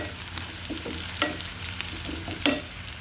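Onions fry in a pan for a fish curry, a constant close sizzle broken by several sharp scraping stirs of a spatula, with no talking.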